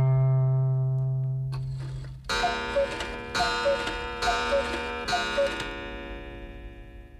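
A cuckoo clock ticks steadily in a regular, close pattern with repeated tonal chimes over a low hum, heard alone without speech.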